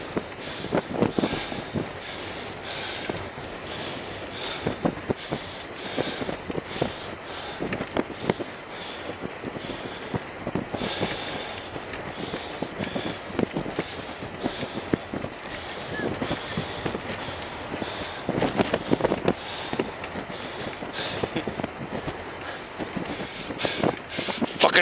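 Northeast headwind buffeting the microphone while riding a bicycle, a steady rough gusty roar with irregular thumps throughout.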